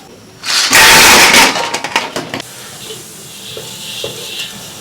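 Spices, doubanjiang and hot pot base hit hot oil in a wok for stir-frying, a loud burst of sizzling that flares for about two seconds, breaks into crackles and then settles into a quieter hiss.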